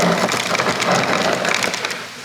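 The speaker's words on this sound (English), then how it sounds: "Crushed ice." Crushed ice pouring from a home refrigerator's dispenser into a cup in a kitchen, a dense, continuous crunchy rattle heard close by that thins out toward the end.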